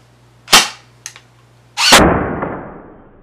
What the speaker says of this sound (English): I'm just going to fire it into my bed just for the safety feature